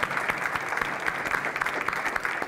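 An audience applauds grant recipients at a classroom grants event, giving a dense, even burst of clapping that fills the room and holds steady throughout, with no one speaking.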